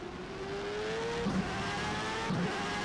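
A Jordan 191 Formula One car engine in the rFactor 2 racing game at Imola drones steadily with a rising whine, then shifts gears twice with brief clunks, constant and fairly loud, no talking.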